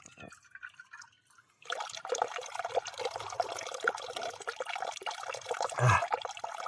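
Cold mountain spring water flows and splashes steadily after a quiet start, with a louder gurgling splash near the end, close by and fairly soft.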